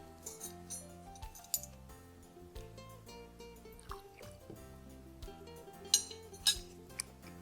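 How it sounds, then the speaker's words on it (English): Utensil clinks and scraping against a bowl while stirring together water, vanilla, cinnamon, kosher salt and cornstarch for an apple pie filling, with scattered sharp taps over a quiet, steady backdrop. "While the apples are cooking, we're going to stir together the rest of the ingredients."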